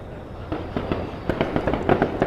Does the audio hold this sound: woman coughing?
no